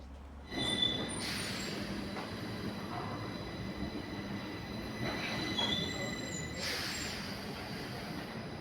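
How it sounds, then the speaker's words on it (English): A Stockholm Blue Line metro train rolls past on the center track at Högdalen at moderate distance, wheels squealing and rails rumbling steadily, with sharper screeches rising now and then. "I don't know why this train is coming through on the center track here to Högdalen"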